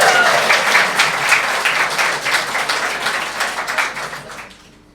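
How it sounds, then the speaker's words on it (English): An audience at a live stage show breaks into steady, dense applause that holds strongly for several seconds, then tapers off and fades out at the end. "a round of applause for Andrew Keppel"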